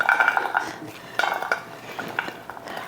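Cherry cobbler filling scraped into a 2-quart baking dish, with repeated clinking and scraping of a utensil against the dish in uneven bursts, close and fairly quiet.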